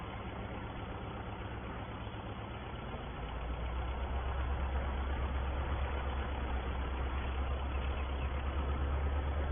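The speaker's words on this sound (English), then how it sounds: "Let's go and get our first tractor into the field." A tractor engine runs steadily while oats are harvested in a field. The drone is low and continuous and grows fuller after a few seconds, with no voices.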